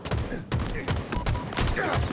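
Rapid bursts of rifle gunfire in a Halo Infinite multiplayer match, loud and dense, with repeated volleys and cracks over game noise.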